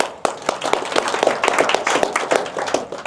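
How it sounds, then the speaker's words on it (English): An indoor audience applauds a sales rep at a live London event, giving a few seconds of brisk, fairly loud clapping with many hands striking irregularly. "Give him a clap."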